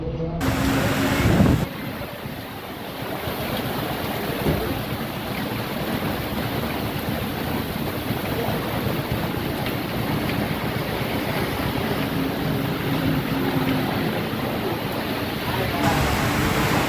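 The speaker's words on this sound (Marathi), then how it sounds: "मनमाडमध्ये वादळी वाऱ्यासह मुसळधार पाऊस" A steady, loud roar of storm wind and heavy rain in Manmad fills the scene continuously, with a brief voice at the very start.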